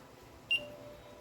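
A Nash Siren R4 carp fishing bite alarm in sound mode gives a single short, high electronic beep, clear and close against a quiet background.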